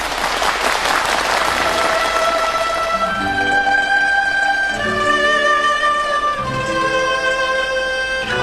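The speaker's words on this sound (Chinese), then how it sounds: "掌声欢迎这位尹派小生" A theatre audience at a Yue opera gala bursts into loud, sustained applause to welcome a young Shanghai Yue Opera House performer of the Yin school, and the clapping fades as instrumental music rises underneath.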